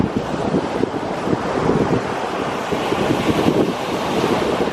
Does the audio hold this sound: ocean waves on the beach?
yes